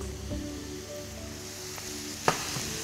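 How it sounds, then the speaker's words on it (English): Chopped aubergine and courgette sizzle steadily in a frying pan, a soft continuous hiss with one brief louder crackle near the end and no voices. "I can then put the aubergine into the pan. Along with the courgette we've chopped."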